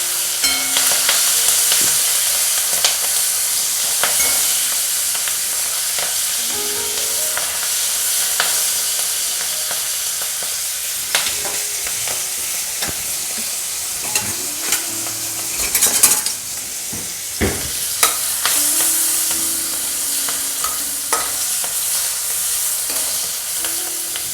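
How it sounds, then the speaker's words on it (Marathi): Salt-stuffed green chillies frying in hot oil give a loud, continuous hiss with occasional spatters, while a utensil clinks and scrapes against the pan now and then. "अशा तेलात तळून घ्यायच्या त्या मिरच्या"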